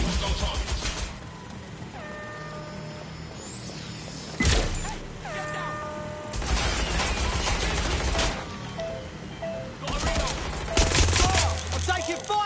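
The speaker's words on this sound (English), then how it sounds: "I'm taking fire!" Rapid bursts of gunfire from a Legion video game battle come in several dense volleys with loud broadband cracks, interspersed with game sound effects and tonal bleeps between the salvos.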